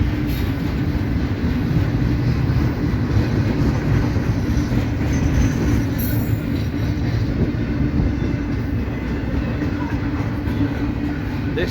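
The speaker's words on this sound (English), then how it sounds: "I think the end of this stack train has finally come through the diamond." A BNSF stack freight train rolls slowly over a diamond crossing, giving a steady, loud, close rumble of wagons with rhythmic wheel clatter and a brief high squeal partway through.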